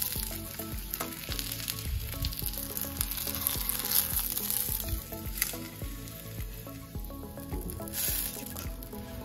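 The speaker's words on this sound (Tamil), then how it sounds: "fish fry almost done" Fish frying in a pan, a loud, close sizzle with crackling pops and the scrape of stirring, continuing steadily with no voices.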